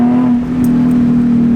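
A Nissan 350Z with a Z1 Motorsports M-Spec single exhaust accelerates from inside the car, its engine holding a loud, steady, tonal drone that rises slightly over a second and a half.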